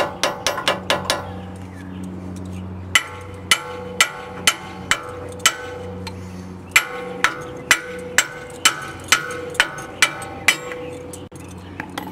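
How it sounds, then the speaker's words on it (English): Metal is struck with a hammer while fitting off-road axle shafts and ball joints, a steady series of sharp ringing blows, closely spaced in places, over a low humming tone. "a little bit of massaging with the hammer."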